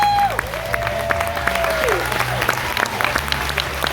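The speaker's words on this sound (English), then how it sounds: "let's give a massive round of applause for our military personnel" Aboard the Carnival Panorama cruise ship during a welcome show, an audience claps loudly and steadily for military personnel, a sustained round of applause under a sliding tone and brief talk.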